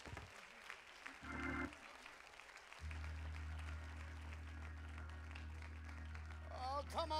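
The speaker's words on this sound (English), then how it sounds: "find a place to stand and clap your hands as the man of God comes of the hour" A church congregation claps at an evening service, steady crowd applause under a sustained organ chord, with people talking and calling out over it.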